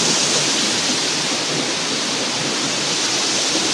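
Noori waterfall near Haripur roars in a loud, dense, unbroken rush of falling water heard up close, with no voices.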